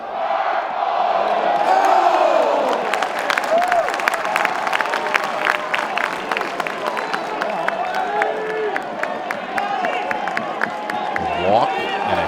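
A record crowd of more than six thousand at a college baseball game in Greenville, UNC against ECU, roars and claps without a break, with sharp claps and whistles cutting through and a commentator talking over the noise.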